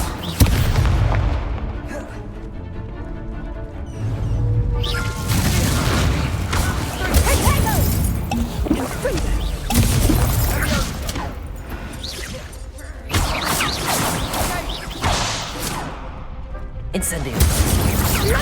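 Incendio fire spells cast in Hogwarts Legacy burst again and again as dense, loud whooshing flame blasts and booms, layered with clashing combat effects and voices.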